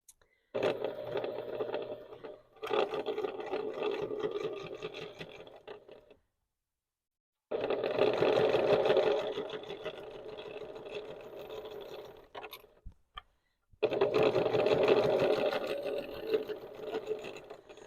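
Sewing machine stitching single fold quilt binding, running in three sustained close bursts separated by brief stops.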